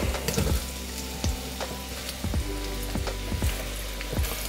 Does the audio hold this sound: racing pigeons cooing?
no